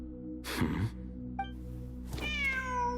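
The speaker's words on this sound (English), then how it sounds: "Layla and Jur both heard the sound of a cat while escaping the ruin." A cat in the video game Genshin Impact meows twice against a low, steady musical drone, first a short breathy call and then a clearer, longer tonal meow, with a faint chime between them.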